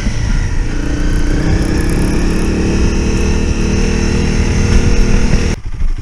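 Motorcycle engine running steadily and loud, with a steady drone up close as a rider prepares for an off-road adventure ride, then cutting off abruptly near the end.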